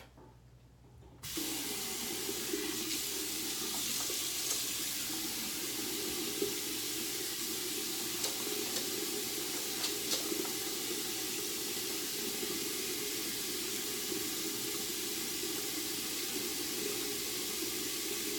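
Tap water runs steadily into a sink while pineapple residue is washed off a face, a constant close hiss and splash that starts abruptly and continues for the full stretch, with faint scattered splashes.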